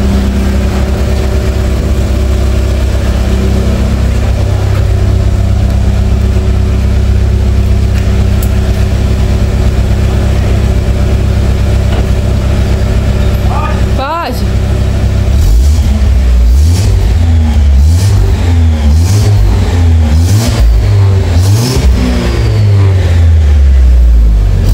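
A new car's engine idles loudly in an enclosed garage with a steady low rumble, then after a short pause it is revved repeatedly in rising and falling bursts, close and powerful.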